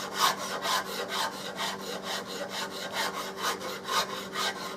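A fine Nicholson pattern maker's rasp files the wooden stock of a Remington 700 rifle in a steady back-and-forth rhythm of close, scratchy strokes, about three per second, with no talking.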